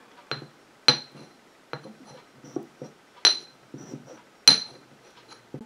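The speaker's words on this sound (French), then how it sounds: "Je viens mélanger les poudres dans le mortier." A pestle strikes and grinds powders in a mortar while a homemade tooth-whitening paste is prepared, giving a series of sharp, close clinks at an irregular pace with softer scraping between them.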